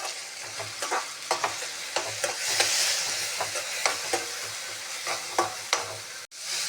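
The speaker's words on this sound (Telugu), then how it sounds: "ఇలా పూర్తిగా దగ్గర పడిందాక వేయించుకోవాలండి." Curry leaf paste fries in a pan with a steady soft sizzle while a spoon stirs and scrapes it in regular strokes, close and fairly quiet, with no talking.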